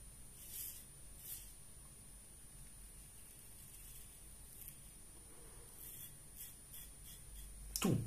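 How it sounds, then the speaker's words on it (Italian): An iKon Tech safety razor fitted with a Gillette 7 O'Clock blade shaves stubble, producing faint, close, scratchy strokes that repeat at intervals against a quiet hiss, with no talking. "Si sente la lama che è una meraviglia"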